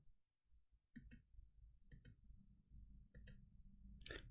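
Mouse clicks during a Git installation on a Windows computer, four sharp double clicks spaced about a second apart, close and crisp over a faint hum, with no talking.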